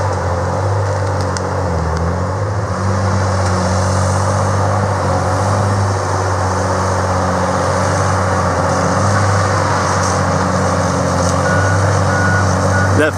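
Tigercat 635D skidder fitted with dual tires, its cooling fan running reversed, gives a loud, constant mechanical roar with a steady low engine drone and no pauses throughout.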